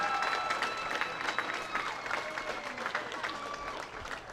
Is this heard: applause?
yes